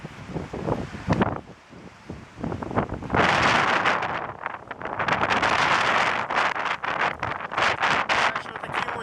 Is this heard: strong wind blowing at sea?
yes